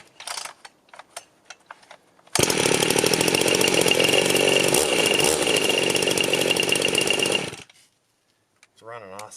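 A rebuilt Husqvarna 51 chainsaw engine revs loud and steady for about five seconds, preceded by a few sharp mechanical clicks and taps and followed by a short voice.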